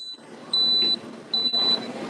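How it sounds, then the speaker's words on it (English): Two high-pitched electronic beeps, each lasting under half a second, with a short gap between them over faint background noise. "It does make the beeps."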